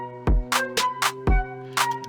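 A punchy trap drum beat with deep low hits alternating with crisp snare cracks, repeating in a steady groove over a sustained tonal backdrop.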